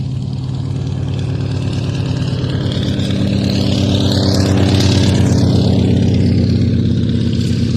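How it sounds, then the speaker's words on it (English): An Antonov An-2, a 1976 WSK Mielec-built biplane configured for parachuting, taxis along an airshow runway, its radial engine droning loud and steady with a rising and falling whine sweeping through the middle. "the Antonov An-2 now making its way down the runway"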